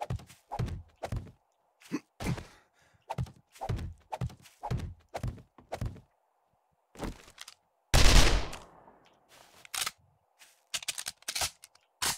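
Gunshots from a firearm in the survival game 7 Days to Die: a series of sharp, separate reports at an uneven rhythm, one louder burst near the middle, with quiet gaps between shots.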